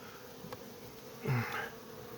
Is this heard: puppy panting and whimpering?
no